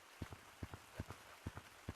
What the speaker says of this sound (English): Look at all this rain.